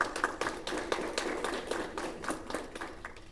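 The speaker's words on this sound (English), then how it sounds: "Guys, give him a round of applause." Scattered hand claps from a small group at a press conference, light and irregular, fading slightly as the applause winds down.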